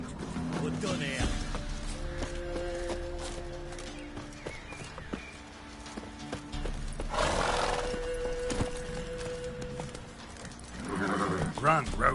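Hooves clip-clop in a quick galloping rhythm as the horse Roach runs in The Witcher 3, with a whinny and game music under the steps.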